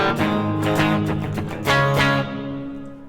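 An electric guitar strums the rhythm part of a song with clean downstrokes, several close, bright chord hits in a quick pattern, loud and alone, ringing out at the end.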